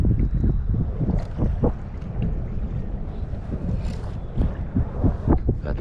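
Wind buffets the microphone on open water during NYC kayak fishing, a gusty low rumble with occasional splashes and knocks, continuous and fairly loud, with no talking.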